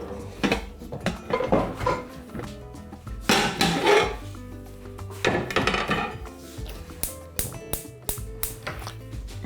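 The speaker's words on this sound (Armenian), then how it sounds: "Վերցնում ենք մեծ կաթսան։" A large cooking pot is lifted and handled in a home kitchen, giving several loud, close metallic clanks and knocks at an irregular pace, with quieter rattles between them and no voices.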